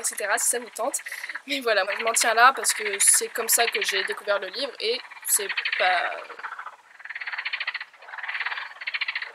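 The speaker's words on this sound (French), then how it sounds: "Voilà, des grenouilles, super." Frogs croak in a dense, rapid chorus of ribbed calls, loud and close, running beneath someone speaking French, then continuing alone toward the end.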